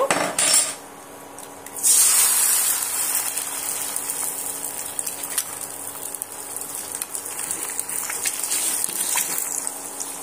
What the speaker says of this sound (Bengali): আমি যে একটা ডিম নিয়েছিলাম সেই ডিমটা আমি এখানে ভেজে নেব